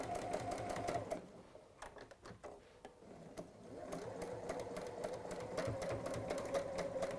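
A sewing machine stitching quilt squares, running in a steady mechanical whir with a brief pause and repositioning in the middle before resuming, close and moderately quiet.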